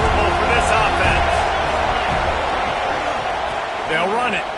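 Loud, dense stadium crowd roar at a Florida State football game, sustained cheering with whoops rising toward the end, heard alongside commentary.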